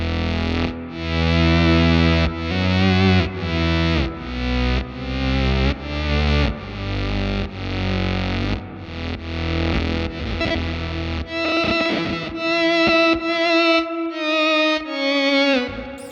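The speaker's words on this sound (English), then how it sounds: "It kind of has this like side chain effect where it kind of has a gate on it." Distorted electric guitar through an HX Stomp amp preset with a gated, side-chain-style pumping effect, loud chords chopped into rhythmic pulses, then brighter sustained sliding notes near the end, no talking.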